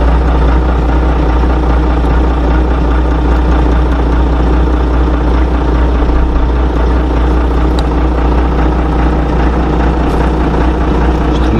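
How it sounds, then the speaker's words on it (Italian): A Fiatagri 180.90 tractor engine idles steadily, a loud, continuous low rumble with a faint knocking texture that runs unchanged throughout, with no voices. "questo qua è un bel trattore a guidarlo"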